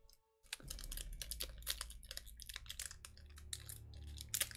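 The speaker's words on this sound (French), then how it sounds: "Je vais tout mélanger." Pokemon card packs being shuffled and handled, a close run of crisp crinkling foil and rapid papery clicks in irregular bursts, quiet overall with no talking.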